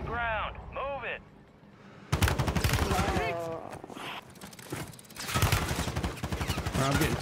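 Call of Duty gunfire crackles in sharp bursts over a busy in-game battle, loud and close, mixed with game voices and radio-style chatter throughout.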